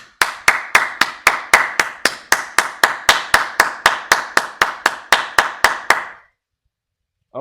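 Sharp, evenly spaced hand claps ring out during a live Twitch stream, around twenty crisp claps in a steady rhythm over six seconds, close and loud, then silence.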